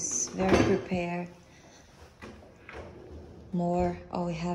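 Cups, plates and dishes clink and rattle as they are handled in a kitchen cupboard of a one-bedroom Lisbon rental apartment, with bursts of ceramic knocks and a person speaking between them.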